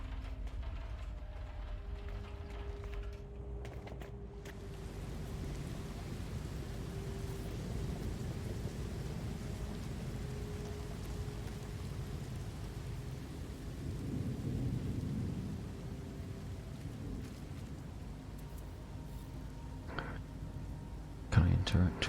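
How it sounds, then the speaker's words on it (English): Rain patters steadily inside a simulation game while deep thunder rolls underneath, swelling into a heavier rumble midway. A few sharp mechanical clicks come near the end. "I don't know why it sounds like it's raining inside."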